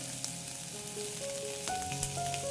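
Tomato pieces fry with garlic and ginger in a hot pan, a steady close sizzle with faint scraping and light clatter throughout, no talking.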